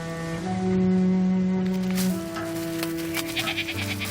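A goat being walked and grazed by a neighbour in a village bleats in one long, loud, wavering cry, followed by softer outdoor rustling and background noise.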